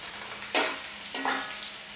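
Golden potatoes dropped into a hot frying pan with onion sauce, two bursts of loud sizzling and crackling as they hit the oil, each settling into a steady fry.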